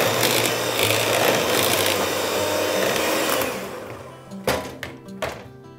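An electric mixer beats cake batter for a tres leches cake, a steady buzzing drone for several seconds that winds down and stops, followed by a few clinks of utensils against the bowl.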